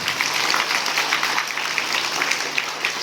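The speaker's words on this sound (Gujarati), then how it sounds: "જોરદાર તાળીઓથી તેમનું સ્વાગત કર્યું" Dense, steady applause from a crowd welcomes guests at a village primary school book distribution event, a sustained clatter of clapping hands throughout.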